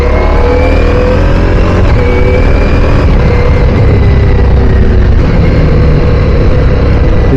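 A Ducati Diavel V4 motorcycle rides in third gear at about 20 mph, its engine juddering at low revs, giving a loud, close, continuous rumbling drone with no speech over it.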